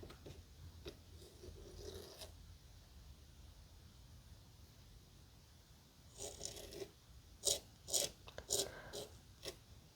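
Sand being raked in a miniature zen garden, soft gritty scraping strokes that come in short bursts, quiet at first and then a louder cluster of rasping passes near the end.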